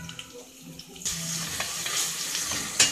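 Calabresa sausage starts frying in a pan, breaking into a close, steady sizzle after a brief quiet moment, with stirring scrapes and a sharp crackle near the end.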